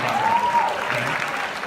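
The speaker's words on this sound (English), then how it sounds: "let's clap. There's been a lot of work to get into this one. You guys can clap." An audience at a leadership event claps in a steady, moderately loud patter, with a brief whistle-like tone sliding across it near the start.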